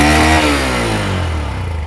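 A Honda CB 150F motorcycle idles close by with a loud, steady engine note and a faint rev change as it settles. The clip is brief and no voices are heard.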